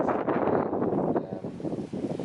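Wind gusting outdoors at a vegetable allotment, a steady broadband rush and buffeting against the microphone that lasts throughout, fairly loud and close.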